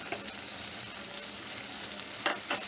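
Ground masala being stirred into an onion-tomato chicken gravy, a dhaba-style curry sizzling loudly in the pan, a continuous close hiss and crackle with short scraping stirs near the end.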